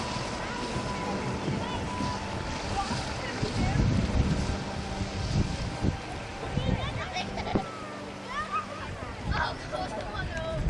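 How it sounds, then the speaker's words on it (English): A boat pulls away from a small pier into a calm bay at Torridon in the Scottish West Highlands after a fishing trip, its engine a steady low hum with light water and wind noise; voices murmur faintly in the background. "Then the boat left to be moored elsewhere in the bay."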